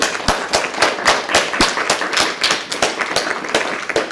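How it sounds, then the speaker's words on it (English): After a lecture on the composer Robert Schumann, a small audience claps for the presenters, sharp separate hand claps in a quick uneven patter, close and fairly loud, with no one speaking. "Let me give a round of applause to our presenters."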